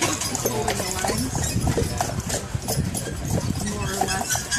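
Horses pulling a carriage on Mackinac Island: steady, loud clip-clop of hooves close by with a busy outdoor background and faint voices.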